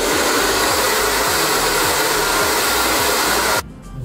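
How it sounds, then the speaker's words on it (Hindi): A hair dryer blows steadily while a man dries and sets his hair, a loud continuous close-up whoosh that cuts off abruptly near the end. "2 मिनट लगे हैं सिर्फ हेयर ड्रायर को यूज करने में और बाल सेट"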